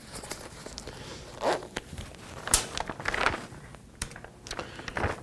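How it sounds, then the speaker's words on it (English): A clothing zipper with fabric caught in its teeth gets tugged and worked in short rasping bursts and clicks, close up, irregular and stop-start, with no talking. "And now my fabric's stuck in my zipper"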